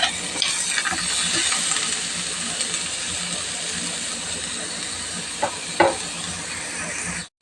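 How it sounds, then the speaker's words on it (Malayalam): Chicken cutlet filling with finely chopped curry leaves is sautéed in a pan, giving a steady close sizzle broken by occasional scraping stirs. "കറിവേപ്പില ഒന്ന് പൊടിയായിട്ട് അരിഞ്ഞതാണ് നമുക്കിത് നന്നായിട്ടൊന്ന് വഴറ്റിയെടുക്കണം"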